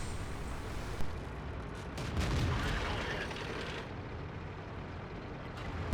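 Tank cannon fire in a tank video game, a dull low boom around the second mark followed by a rumbling tail over steady engine and battle noise.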